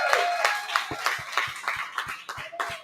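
A small group of colleagues claps in thanks at a company rebrand unveiling, a few loose sharp claps spaced out unevenly, close and moderately loud, with faint murmuring underneath.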